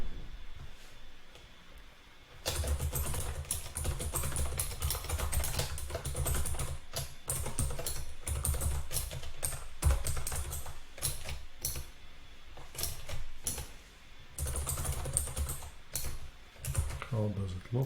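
Steady typing on a computer keyboard while writing out an exercise, a dense run of close, clicky keystrokes that pauses briefly before resuming, with no talking.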